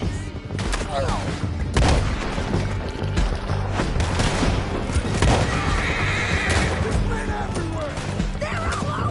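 Horses neigh and whinny amid gunfire and crashes in the Western video game Red Dead Redemption 2, with loud shots and booms scattered across a busy chase scene while voices shout over the action.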